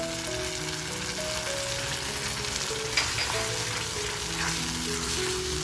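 Paste of seven or eight ground cashews frying in hot oil in a pan for a Veg Maratha curry, giving a steady, close, dense sizzle that holds evenly throughout with no talking.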